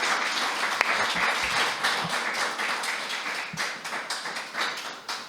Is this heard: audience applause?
yes